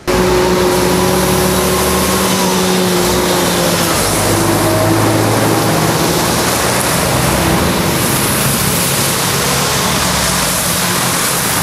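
Cars drive through a flooded city road, their engines and tyres sending up a steady, loud rush of water spray with an engine hum underneath, and no one speaking.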